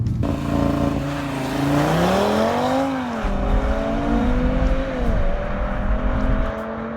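A 2018 Audi RS3 sedan's turbocharged five-cylinder engine pulls hard close by, its rising tone climbing through the revs, briefly dipping at a shift, then climbing again before easing off.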